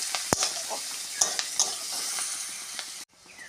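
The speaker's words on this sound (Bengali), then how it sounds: "পরিমাণ মতন হলুদ, একটু ধনিয়ার গুঁড়ো দিয়ে এটাকে একটু ভালো করে কষিয়ে নেব" Dal masala with chilli, turmeric and coriander powder being sautéed in a pan: a continuous close sizzle with sharp spoon scrapes and knocks against the metal, cut off abruptly near the end.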